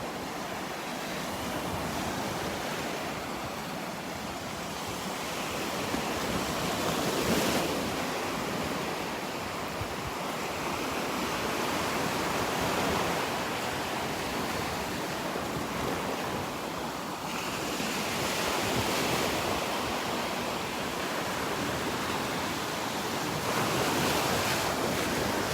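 Ocean surf at Naples Pier beach washes in with steady, broad breaking waves under constant wind buffeting the microphone, the rush swelling in several surges.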